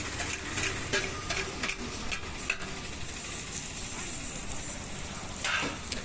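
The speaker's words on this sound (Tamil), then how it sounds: "தக்காளி, கருவேப்பிலை இது ரெண்டையுமே நல்லா பிச்சு போட்டு நல்லா ஃப்ரை பண்ணிடலாம்." Chow chow (chayote) frying in a pan with egg, tomato and curry leaves, giving a steady close sizzle broken by scraping spatula stirs and a few sharp clinks, with no talk.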